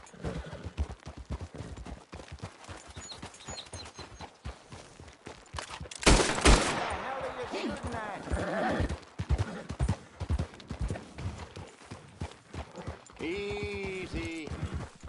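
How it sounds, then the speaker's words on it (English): A horse gallops in the video game Red Dead Redemption 2, its rapid hoofbeats drumming steadily under a voice, with a sharp loud burst partway through and a brief whinny near the end. "Giddy up."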